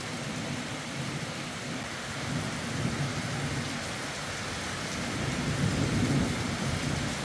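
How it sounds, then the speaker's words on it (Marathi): Unseasonal rain in Yavatmal district falls steadily through a thunderstorm, with a continuous hiss of drops on surfaces and a low rolling rumble of thunder that swells toward the end, with no voices. "विजेच्या कडकडाटासह पावसाने हजेरी लावली आहे।"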